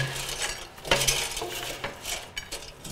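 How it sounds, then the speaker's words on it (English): A spatula scrapes and clinks against a pan while handling fries for poutine, giving light metallic taps and a few sharper clanks over a soft sizzling background, with no talk. "I'll use a spatula"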